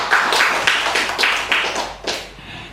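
Audience clapping at a legal seminar, a series of loud rhythmic bursts of hands about every half second, close and uneven, with a final clap before it fades out.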